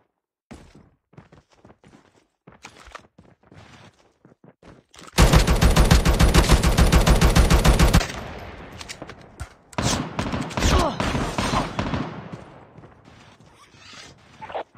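Oden assault rifle gunfire in Call of Duty Mobile battle royale: a few scattered game sounds, then about three seconds of loud, dense sustained automatic fire, followed by further bursts of shooting and game noise.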